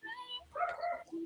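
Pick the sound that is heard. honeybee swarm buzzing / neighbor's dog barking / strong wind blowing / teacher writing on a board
neighbor's dog barking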